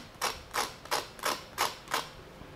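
Crispy fried aloo tikki patty crunching six times in a quick, even rhythm, each a short crackly burst; quiet and close with no voices.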